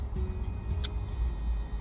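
Car traffic rumbles past, a low steady engine and road hum with a brief higher hiss midway, heard from inside a nearby vehicle with no talking.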